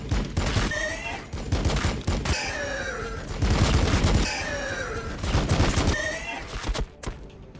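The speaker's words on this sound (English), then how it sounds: "Heavy armor, awaiting your orders. Opening fire." Heavy armor gunfire in Warhammer 40k Battle Sector: repeated loud bursts of weapon fire in clustered volleys with rising whine-like tones, several barrages across the clip before trailing off near the end.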